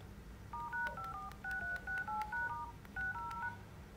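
Keypad tones on an LG V60 Sprint phone: a run of about a dozen short dial beeps pressed in quick, uneven succession, clear but quiet over a low background hum.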